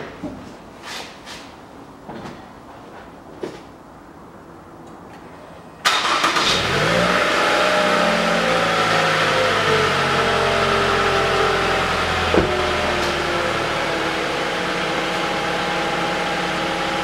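A 2013 Toyota Camry XV50 with a 2.5 engine, during an automatic transmission oil change, cranks and starts after quiet clicks, then settles into a loud steady idle with a brief rev.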